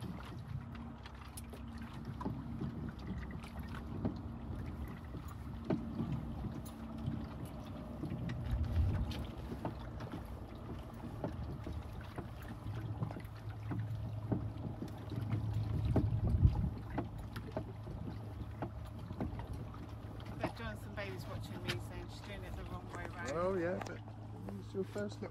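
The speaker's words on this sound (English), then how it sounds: "you're pulling yourself forward and you're dredging" Faint creak and splash of a rowing boat hauling an oyster dredge on the Fal in Cornwall, with soft wind noise on the microphone and people talking quietly throughout.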